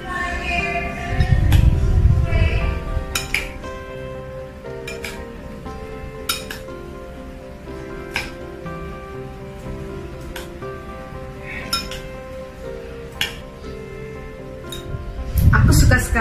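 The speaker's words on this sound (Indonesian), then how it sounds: "Aku mau aduk dulu ya mie-nya." Utensil clinks and scrapes against a bowl while instant noodles are stirred, a series of light taps and chinks spread through the clip with a soft voice talking at the start and end.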